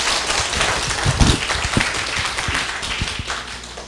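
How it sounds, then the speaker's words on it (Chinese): Audience applause welcoming a lecturer at the start of a class session on Taiwanese sovereignty, a dense steady patter of many hands clapping for about four seconds with no talk over it. "请掌声欢迎"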